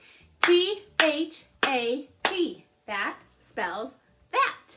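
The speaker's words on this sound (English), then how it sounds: "Let's clap it out." A teacher's hands clap in time with her voice as she spells out a short word letter by letter for a remote lesson, seven sharp claps each landing on a spoken letter or syllable, close and clear.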